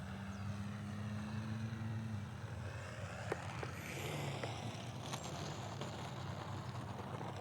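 A distant RC airplane with flaps down takes off and flies, its faint propeller whine rising and drifting in pitch over steady outdoor background noise.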